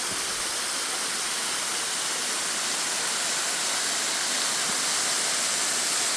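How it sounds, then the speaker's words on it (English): Water falls steadily from a frozen, ice-covered waterfall in freezing weather, making a loud, broad, unbroken rush that fills the whole clip with no voices. "Look at that beautiful waterfall."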